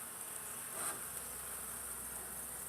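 Honey bees at an open hive during an overdue spring inspection make a faint, steady buzzing drone, heard distantly and unbroken, with no talking.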